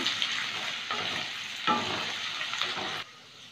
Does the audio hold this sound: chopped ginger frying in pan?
yes